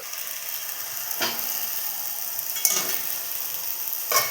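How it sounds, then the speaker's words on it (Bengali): Kalmi greens fry in a pan over a lowered gas flame, giving a steady hiss with a few brief scraping stirs at intervals and no voices. "আবার একবার তুলে নেড়ে নেব।"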